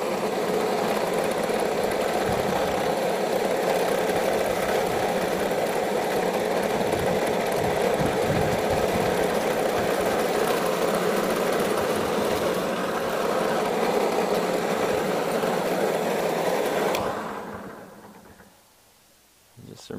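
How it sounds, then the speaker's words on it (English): A push lawn mower's engine runs loud and steady at close range for about seventeen seconds, then cuts out and winds down into near silence. "Having this be a push mower makes it quite a bit more of a workout than it used to be."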